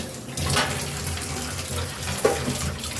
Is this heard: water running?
yes